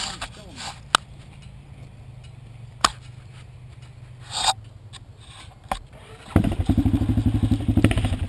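A dirt bike engine fires up on a trail after a hard crash, starting near 6.4 seconds with a rapid rough putter that stays low and fails to rev, following scattered thumps and rustling; voices are heard.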